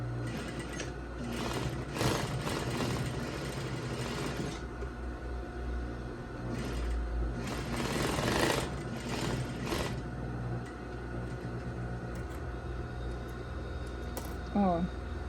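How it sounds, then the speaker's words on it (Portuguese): A sewing machine runs a straight seam on a zip-front lab coat in two long bursts of rapid, steady mechanical whirring, pausing in between, with a voice speaking quietly at times. "Vou fazer uma costura reta nela toda, do pique até o outro."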